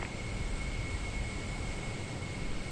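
A steady, loud roar of a PMDG 737-800 jet engine spooling up in Microsoft Flight Simulator, broadband rushing noise with a thin high whine running throughout.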